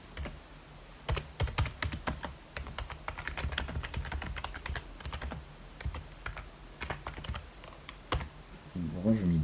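Keys clatter on a computer keyboard in quick irregular bursts of close, crisp taps, with a short stretch of faint background noise and a brief voice near the end.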